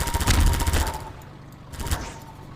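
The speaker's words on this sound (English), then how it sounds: "This airboat gun's kind of a pain to use" Half-Life 2's airboat gun fires a rapid, loud automatic burst, then pauses briefly before another short burst, with no voices.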